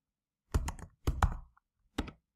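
Typing on a computer keyboard, three short bursts of clustered key clicks and thumps with quiet gaps between, close and fairly crisp.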